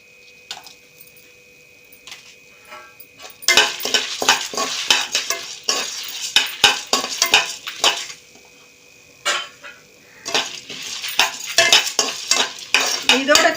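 Chillies, tamarind and white sesame being dry roasted in a pan, with repeated scraping and stirring clatter of a utensil against the metal, a faint crackle, and bursts of busier stirring after a quieter start.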